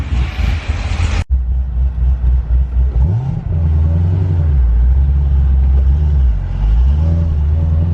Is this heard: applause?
no